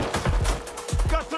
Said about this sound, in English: Target is firing!